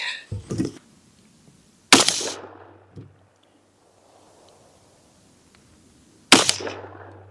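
Three gunshots fired at self-healing targets, heard as sharp, loud separate cracks at wide uneven intervals with a short ringing tail after each and near silence between, and no talk.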